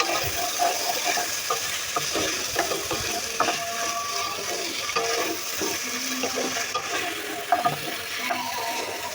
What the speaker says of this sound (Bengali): আলুগুলো একটু হালকা ভেজে নিতেছি।